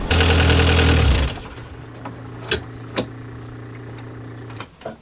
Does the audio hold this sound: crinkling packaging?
no